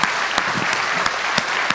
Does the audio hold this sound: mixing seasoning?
no